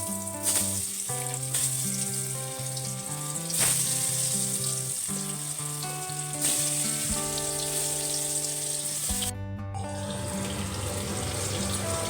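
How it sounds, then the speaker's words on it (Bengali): Potatoes coated in salt and turmeric fry in hot oil for a monsoon khichdi, giving a steady close sizzle that runs the whole time beneath background music. "নুন হলুদ মাখানো আলু ভেজে নেব"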